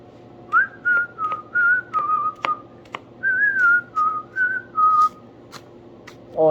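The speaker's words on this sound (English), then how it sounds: "I know you guys hate listening to me whistle" A person whistles a lilting tune while cooking a stir-fry, in clear separate phrases with short pauses, close and fairly soft, with a few light kitchen clicks and knocks between notes.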